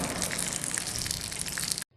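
Hot tempering with curry leaves is poured over ridge gourd peel chutney, giving a loud, dense sizzling crackle for almost two seconds that cuts off abruptly into silence.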